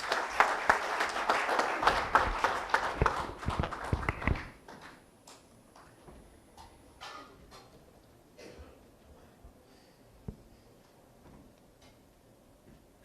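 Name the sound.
applause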